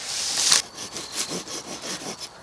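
A hand saw rasps through wood in quick back-and-forth strokes, close by, after a brief louder scrape at the start.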